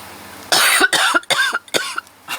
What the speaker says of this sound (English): My good lady wife has got a cough.